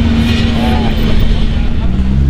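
A McLaren P1 supercar begins to pull away, its engine a loud, steady rumble that fills the whole stretch, with voices from a surrounding crowd mixed in.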